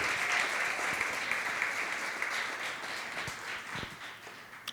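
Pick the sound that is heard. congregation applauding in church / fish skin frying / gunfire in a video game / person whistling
congregation applauding in church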